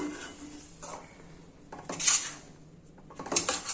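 Dry coconut and cardamom powder stirred in a pan for a coconut sweet, giving soft scraping and a few light metallic clinks of a spoon against the pan, with two louder scrapes near the middle and end.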